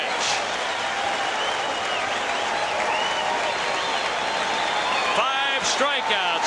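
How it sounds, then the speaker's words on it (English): A baseball stadium crowd stands and applauds at a game where a pitcher is throwing a perfect game, a loud, dense, continuous roar of clapping and cheering with a commentator talking over it. "as one they stand and applaud"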